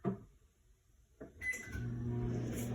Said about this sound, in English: you're gonna put this in the microwave